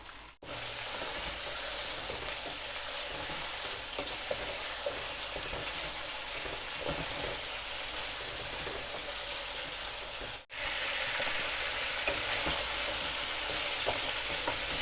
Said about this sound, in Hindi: इसमें थोड़ा हमने चिकन को फ्राई करना है।